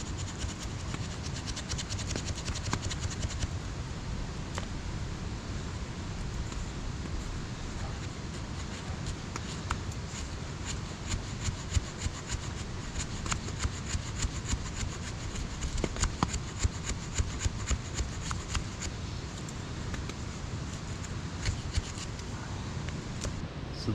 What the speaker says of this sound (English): So use the back of your blade, just rub the back of your blade down.